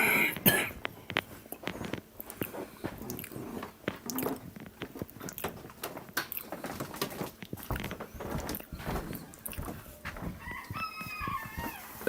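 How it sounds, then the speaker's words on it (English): A rooster crows repeatedly in the early morning, sounding moderately distant and fairly quiet, with several coughs and small handling noises around it. "That's the rooster."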